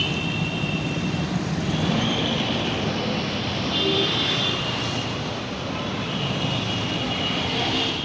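A metro train rumbles continuously overhead above a busy Kolkata street, a broad, steady roar with a faint high whine running through it and no clear pauses.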